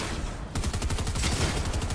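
Rapid bursts of gunfire from the video game Fortnite crack out in a quick repeating stream after a short lull, loud and close, with no talk over them.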